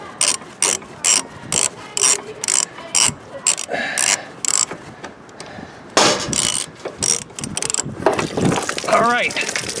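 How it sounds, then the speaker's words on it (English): A ratchet with a 7/8 socket loosening the drain plug on a Fleetwood Bounder motorhome gives loud, close bursts of rapid clicking in a regular rhythm, followed by rougher clanking and water sounds, with brief talk. "So let me use a 7/8 socket and remove the drain plug here."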